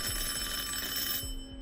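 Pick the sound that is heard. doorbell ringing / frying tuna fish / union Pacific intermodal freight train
doorbell ringing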